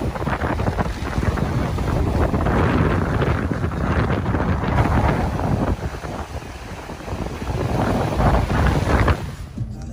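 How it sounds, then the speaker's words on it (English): Strong wind buffets the microphone on a beach at Cape Point, a steady loud roar with gusty swells and faint surf beneath, continuous for nearly ten seconds before easing at the very end. "A little bit windy, so you might struggle to hear me"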